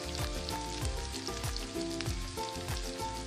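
Spiced chicken with chilli, pickle, meat masala, coriander and turmeric sizzles steadily in a pot for a wedding-style degi chicken, a continuous frying hiss with a few stirring knocks under background music.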